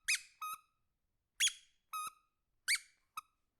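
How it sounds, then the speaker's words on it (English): A squeaky rubber toy duck is squeezed by a baby, giving three pairs of sharp, high squeaks, each a longer squeal followed by a shorter one, evenly spaced with silence between. "A baby playing with a toy ducky."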